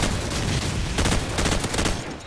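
A first-person shooter fires a loud, continuous burst of rapid gunshots at close range, steady for about two seconds with no talk.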